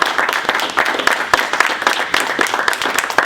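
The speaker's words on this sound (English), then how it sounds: "I'd like to give them a round of applause" An audience claps together at an Atlanta McDonald's Golden Grants event, warm and continuous, with individual claps standing out close by. No one speaks over it.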